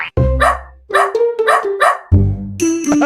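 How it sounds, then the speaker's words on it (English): A dog barks repeatedly at close range at an Ironman 70.3 triathlon in Galveston, five or six sharp barks in quick succession, loud and clear. "So there's dogs and everything here."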